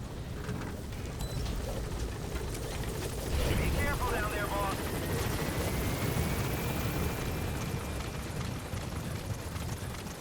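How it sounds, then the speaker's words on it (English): A helicopter in Metal Gear Solid V: The Phantom Pain on PS3 drones with a steady rotor rumble for the whole stretch, under someone talking. "And don't worry about that chopper."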